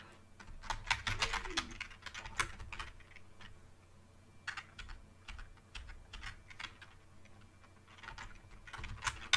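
Clicky computer keyboard typing while entering an Excel formula comes in irregular bursts of sharp, close keystrokes, with brief pauses between clusters and a quiet background hum.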